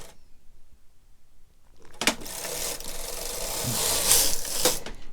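A knitting machine carriage slides across to knit a row, a continuous rasping mechanical whir from about two seconds in with clicks at both ends, after a quiet stretch.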